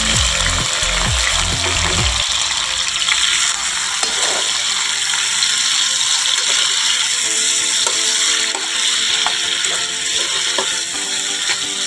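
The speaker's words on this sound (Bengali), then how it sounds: "নুন হলুদ দিয়ে চিংড়ি মাছগুলো ভেজে নেব ভালো করে একটু" Shrimp seasoned with salt and turmeric sizzle in a pan, a loud, steady hissing fry that persists throughout, with a few low clattering knocks near the start and faint ticking within the sizzle.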